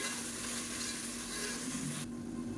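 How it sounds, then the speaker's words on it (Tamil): Ginger and garlic sautéing in oil in a pan for mutton biryani, a faint, even frying hiss with a low steady hum underneath that thins out sharply near the end. "பூண்டு வந்து தனியாக போட்டுட்டு இதையும் பச்சை வாசனை போக வதக்கி விட்டுக்கலாம்"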